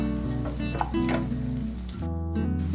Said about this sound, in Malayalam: കുറച്ചുകൂടെ നമുക്ക് വഴറ്റി കൊടുക്കാം.